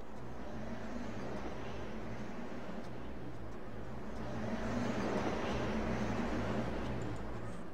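Ambient wind effect in the Kyrandia 3 video game, a steady broadband whooshing rush over a low droning hum, fairly even throughout and swelling slightly louder in the second half, with no speech.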